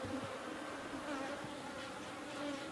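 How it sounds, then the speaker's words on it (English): Honeybees from an opened horizontal hive on a cool day hum in a steady, dense buzz, with individual bees droning close by now and then over the constant swarm. "The bees are pretty well behaved today"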